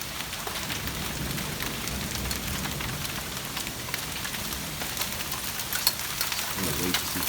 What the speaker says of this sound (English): Look at that hail.